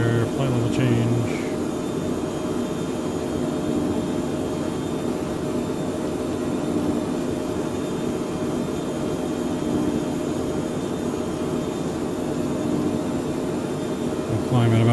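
Steady broadband jet and cabin drone of a Phenom 100 in cruise at about 230 knots in Microsoft Flight Simulator, continuous and even throughout, with brief talk near the start and end.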